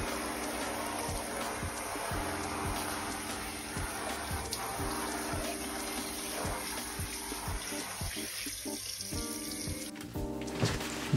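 Water running from a tap into a sink, a steady close splashing rush that shifts near the end as the flow is moved or interrupted, with no talk over it.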